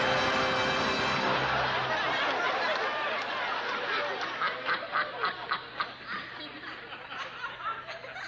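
A duck quacks repeatedly during a stage magic show, a rapid run of short nasal quacks that follows a loud burst of crowd noise.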